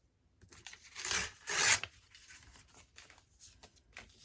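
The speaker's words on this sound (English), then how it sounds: "I'm going to tear one up and just see." Paper being torn up for decorating journal pages, two loud ripping bursts close by followed by softer rustling and small tearing sounds.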